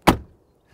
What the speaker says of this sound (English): The sound of the car door shutting.